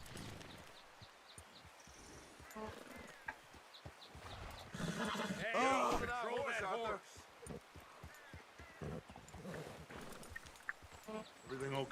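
In the Red Dead Redemption 2 video game, a horse gives a loud, wavering neigh amid rhythmic clip-clopping hooves, with people talking around it.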